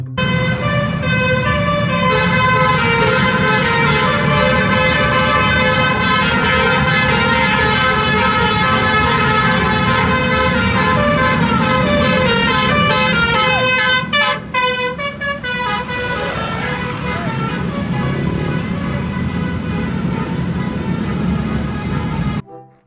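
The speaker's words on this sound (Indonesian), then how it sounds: "Wow, yang ini ada bus Bristran teman-teman." A Bristran bus sounds its horn in a long, loud, continuous series of tooting blasts as it passes close by. The honking runs almost unbroken with a steady engine rumble underneath.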